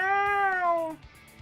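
A single drawn-out cat meow, clear and close, sliding slightly downward in pitch before breaking off, followed by near silence with faint room noise.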